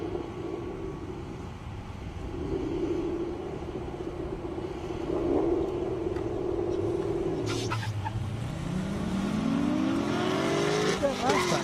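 A car on a drag strip at an airstrip racing event, a steady engine drone that dips, then revs rising in pitch as the car pulls away, with a commentator talking over it.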